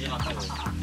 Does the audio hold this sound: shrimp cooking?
no